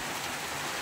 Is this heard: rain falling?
yes